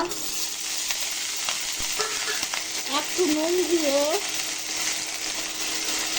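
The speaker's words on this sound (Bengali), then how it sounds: "সরষে তেল গরম করে একটা কাঁচা লঙ্কা ফোড়ন দিয়ে ব্রোকলিগুলা" Broccoli frying in hot mustard oil with a green chili, a steady close sizzle with occasional stirring scrapes, while a person speaks briefly over it.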